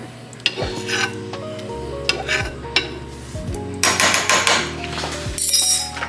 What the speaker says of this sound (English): I like to scoop out these cloves of garlic, throw them in there.